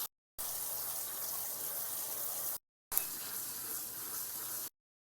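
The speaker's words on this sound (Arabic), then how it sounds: "وطبعا فاتحة عليها المي الباردة كرمال ما تعجن" Cold tap water streams steadily over drained pasta in a colander, a continuous broadband rush that cuts off briefly twice and resumes.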